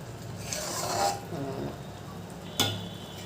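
Onion paste sizzles gently in oil while a utensil stirs and scrapes the pan, ending with a sharp clink.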